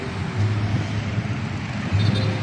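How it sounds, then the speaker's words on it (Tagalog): Heard from a rooftop at Gateway Cubao, many cars pass below as a constant low roadway rumble with engines swelling now and then, distant but steady throughout. "yan yung ibaba ng maraming mga sasakyan"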